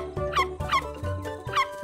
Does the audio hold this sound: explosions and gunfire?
no